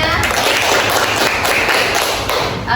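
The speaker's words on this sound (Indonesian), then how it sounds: "Tepuk tangan untuk temannya." Children in a classroom clap for a classmate, a brisk burst of scattered, overlapping hand slaps and taps lasting a few seconds, fairly close, with some talk mixed in.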